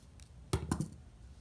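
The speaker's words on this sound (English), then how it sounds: "And now you'll cut your yarn" Scissors snipping crochet yarn: one close, crisp cut followed by a couple of smaller clicks, quiet and alone.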